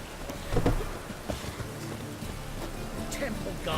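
Steady rainfall in The Witcher 3 game world, a continuous hiss with a few louder splashes and low rumbles, loud and near throughout.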